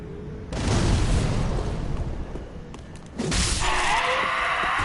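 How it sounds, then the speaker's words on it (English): A fire bomb bursts in Dark Souls 3 with a loud whooshing explosion, followed by a second roaring blast and crackling flames, close and prominent. "We'll run here because we've got fire bombs."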